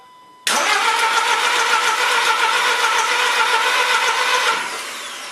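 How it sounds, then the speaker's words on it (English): A Volkswagen TSI car engine cranks steadily for about four seconds without catching, a loud, continuous whirring starter drone that begins abruptly and then fades to a quieter hum. "We'll try and turn it over."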